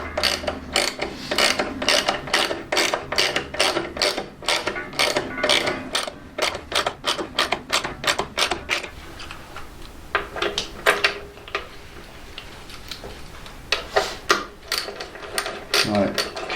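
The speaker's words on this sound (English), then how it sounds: "catch the thread, and that will draw the bush into the shock" A hand tool draws a bush into a Burley Slammer shock absorber on a Harley 48, giving rapid ratcheting clicks in steady bursts up close, with brief pauses and speech at times.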